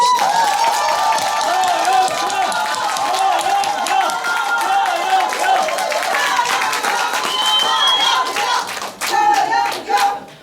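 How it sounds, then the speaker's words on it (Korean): Sustained audience applause fills a Pohang lecture hall, welcoming a lawmaker to the stage at a party women's committee event, steady and close with scattered claps, a voice carrying over it. "환영의 박수를 보냅시다"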